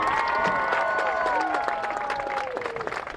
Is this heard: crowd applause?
yes